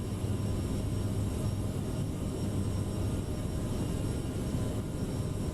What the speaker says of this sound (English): see how good the airplane sounds